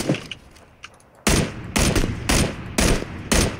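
Gunfire in the video game PUBG: a quiet start with faint clicks, then five loud, evenly spaced shots about half a second apart, each with a short echoing tail.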